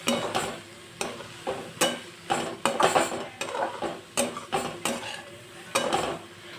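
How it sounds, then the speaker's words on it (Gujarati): Paneer stuffing is stirred in a pan with spring onion greens and fresh coriander, a spoon scraping and knocking against the metal in a steady rhythm of strokes, close and fairly quiet over a light sizzle. "ઉપરથી આપણે લીલી ડુંગળીના પાન ને ઉપરથી આપણે ફ્રેશ કોથમરી એડ કરશું ને બધું જ આપણે મિક્સ કરી લઈશું"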